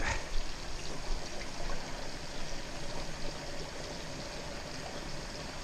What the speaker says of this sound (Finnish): Pistetään nyt sinne jonkun verran vettä.